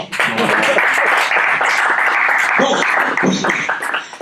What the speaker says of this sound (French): Ça s'applaudit aussi dans toutes les salles.